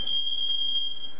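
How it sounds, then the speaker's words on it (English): Smoke or fire alarms sounding inside a house, a steady high-pitched electronic tone held continuously and loudly throughout with no pauses or talking. "the fire alarms are going off"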